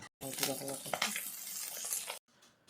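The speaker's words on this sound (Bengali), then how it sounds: "তো মাছগুলো সব এখন ভেজে নিচ্ছি" Fish sizzles and spatters in hot oil, a loud steady hiss with crackles, close up, with faint voice-like sounds beneath it, then it cuts out.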